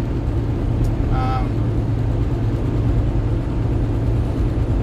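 Steady low road rumble from inside a freight truck driving at night on rain-damp pavement, a continuous drone with a brief faint tonal chirp early on and no talking.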